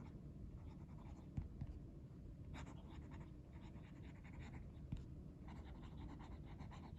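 A copper fountain pen with a fine Schmidt steel nib scratches across paper in a quiet, close series of soft strokes and taps, faint and unbroken by talk.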